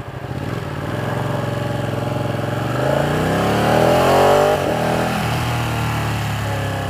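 A Ducati 899 Panigale motorcycle ridden through Belgian commuter traffic, its engine droning loudly and steadily up close with a rise in revs midway before settling back.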